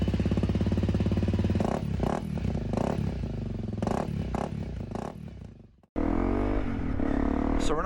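A motorcycle on a town road in winter, its engine loud and close with rising and falling revs through gear changes, a brief dropout near the end, then steady engine roar resumes.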